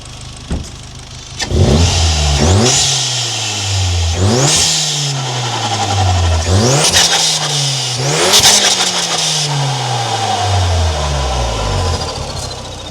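A Cupra 280 car engine, tuned to stage 2, revs hard several times in a row, each rise in pitch snapping back down, loud and close, with the engine rumbling in between.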